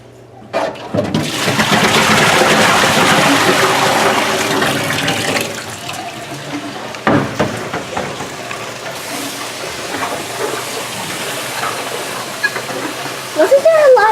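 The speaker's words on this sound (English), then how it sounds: "Wasn't there a lot of water in there? And why did you have to pour it out?" Soapy water from apple cider making equipment gushes out in a steady, loud pour for several seconds, then trickles and splashes more sporadically, with a clunk partway through.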